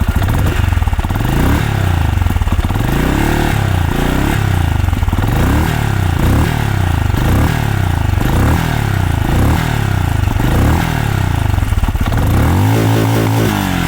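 A Benelli Imperiale 400 motorcycle engine revs repeatedly to top revs, loud and near, rising and falling in a regular series of about ten throttle blips.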